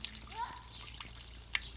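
Spring water flowing straight from the ground at a natural spring between Melnik and Zlatolist: a faint, steady trickle and light gurgle with a few drips, heard quietly in an open outdoor setting.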